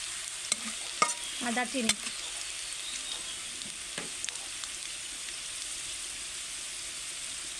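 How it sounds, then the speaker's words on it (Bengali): Onions frying in oil in a kadai for a village chicken and small potato curry, a steady faint sizzle with a few stirring scrapes and clinks near the start, and a brief spoken remark early on. "মুরগিটা রান্না করার জন্য প্রথমে আমি কড়াইয়ের মধ্যে পেঁয়াজ আর তেল দিয়ে পেঁয়াজটা লাল লাল করে ভেজে নেব।"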